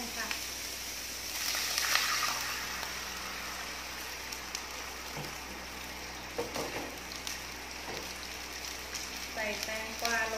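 Cucumber and carrot stir-fry in a hot pan with a steady, moderately loud sizzling hiss, with scattered clinks and stirring scrapes and someone speaking at times over the frying.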